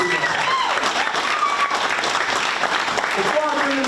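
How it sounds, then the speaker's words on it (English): Audience applause at a reentry entrepreneur graduation ceremony, steady sustained clapping from a crowd for the full stretch, with a voice or two faintly audible over it. "I just want to give those brothers a round of applause that made it through that"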